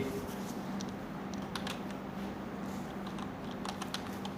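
Typing on a computer keyboard while entering a headline in a design program, heard as a steady patter of light key clicks with a few louder taps over a constant low background hum.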